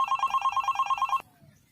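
A telephone rings with a rapid electronic trill that holds steady for about a second, then cuts off abruptly, leaving a quiet line with faint background noise.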